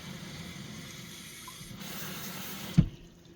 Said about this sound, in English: I'm gonna add the water to it.